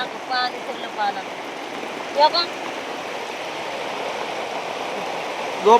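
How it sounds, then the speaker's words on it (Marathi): Heavy night rain hisses steadily across the whole clip, with a few brief voices and clatters rising over it now and then. "पाऊस पडतोय मग पाऊस पडतोय ना"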